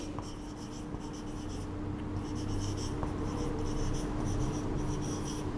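Steady pen or chalk writing during a chemistry lecture on rancidity, a continuous faint scratching with soft strokes and no speech over it.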